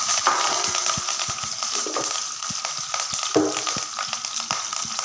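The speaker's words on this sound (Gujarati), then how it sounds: "આપણું તેલ ગરમ થઈ ગયું છે, તો એમાં મરચાંની નાખી દઉં છું। ત્યારબાદ લીલા મરચાં અને લીમડો પણ નાખી દઈએ।" Green chillies and curry leaves sizzling in hot oil with a close, steady crackle and frequent sharp pops and spatters, no voices present.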